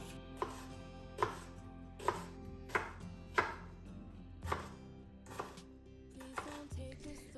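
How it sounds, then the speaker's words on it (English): Vegetables chopped with a knife on a board, a steady series of about ten sharp, evenly spaced chops, close and clear, with no talking. "Chopping veggies is another time consuming task, so I prefer doing it a day before."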